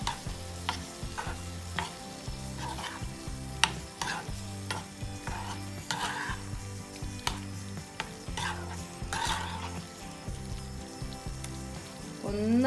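Tamarind water for mango pachadi simmering in a pan while a spoon stirs it, a steady close bubbling hiss broken by regular scraping strokes throughout, with no talk.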